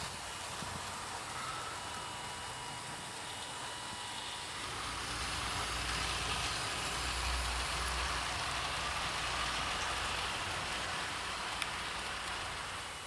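A Bachmann OO-gauge model of a GWR Dukedog steam locomotive, number 9017, runs along a track with a steady, hissing whir and a low rumble that swells in the middle and then eases, with no talk over it.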